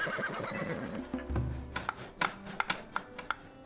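Horses neigh in the Farthest Frontier video game, a whinny near the start followed by a lower snort and a run of light clip-clop hoof taps amid game ambience.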